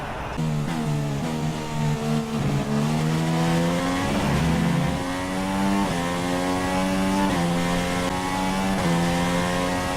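A Formula 1 car from F1 2016 runs a qualifying lap on soft tyres, with a loud, steady high-revving engine whine that climbs through the gears and shifts pitch repeatedly, heard alone.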